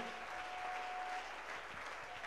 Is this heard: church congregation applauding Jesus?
yes